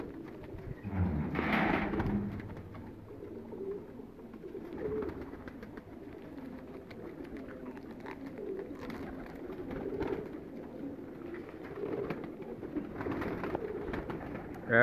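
Pigeons kept on a rooftop in Faisalabad coo softly in low repeated rolling calls, fairly close but faint, with light background noise and no talk.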